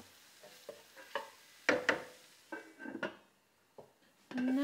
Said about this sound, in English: Now that the mushrooms have been cooking for about 3 minutes along with the mince, we just stir it.